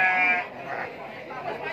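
A pure white female goat bleats, a wavering cry that opens the moment, then fainter bleats follow as a person talks nearby.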